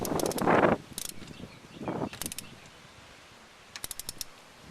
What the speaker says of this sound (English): So we're tightening these 40 foot-pounds.